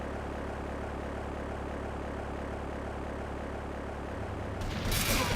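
A plane's engine in GTA 3 drones steadily and loud throughout, a constant buzzing hum, with a sudden louder burst of noise near the end.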